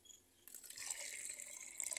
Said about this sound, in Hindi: ये इसमें नॉर्मल पानी में डाल रही हूँ